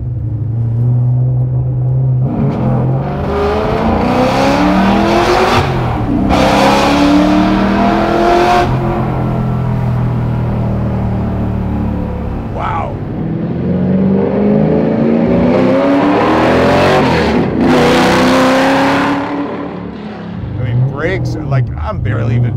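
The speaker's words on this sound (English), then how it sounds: "It really sounds like a race car" Custom 1969 Camaro with a 750HP Mercury Racing engine accelerating hard, its deep exhaust rising through the gears in repeated loud pulls, with people talking over it inside the car.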